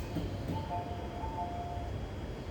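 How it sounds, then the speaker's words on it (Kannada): A train pulls into a station in Japan with a low, steady rolling rumble and a faint sustained tonal whine from the wheels or motors, heard at moderate distance. "ಆ ಟ್ರೈನ್ ಬಂತು ಇವಾಗ"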